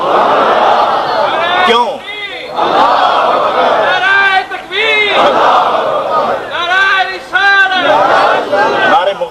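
A crowd at a religious gathering loudly chants slogans in repeated bursts, swelling voices separated by short pauses, with a single voice speaking briefly in between.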